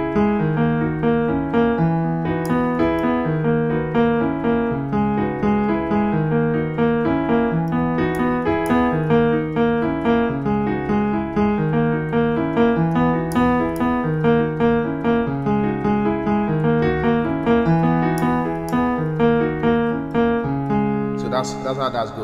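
A piano plays the chords of a song in a steady, rhythmic pattern of repeated chord stabs for over twenty seconds, clear and close with no talking.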